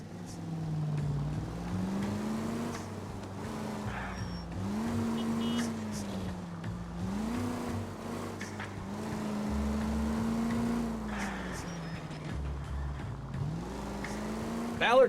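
A car driving in L.A. Noire, with a steady engine drone that rises and falls in pitch through repeated gear changes and accelerations, moderately loud and continuous throughout.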